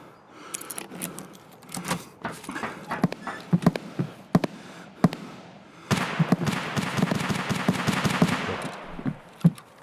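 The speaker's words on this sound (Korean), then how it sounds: "갈 때마다 총소리가 나요" Rapid gunshots in the video game Escape from Tarkov crackle in irregular bursts, some sharp single shots, building into dense continuous fire in the second half.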